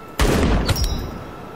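A heavy cannon-like gun fires in Outpost: Infinity Siege, one loud booming blast with a second crack soon after, then a rumbling tail that fades out.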